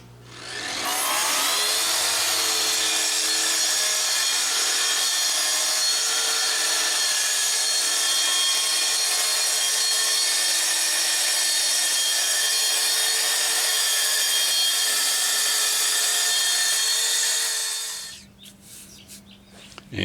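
A power saw rips long strips from a sheet of 1/8 inch hardboard in one continuous loud cut lasting about fifteen seconds, then winds down and stops.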